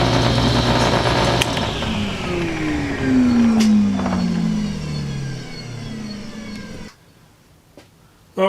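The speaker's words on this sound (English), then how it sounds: "And then when I want to start the saw," A power saw in a woodworking shop for cutting beehive frame end bars whirs loudly up close, then its motor pitch sinks steadily as it winds down, ending in a sudden drop to near silence with a faint click after.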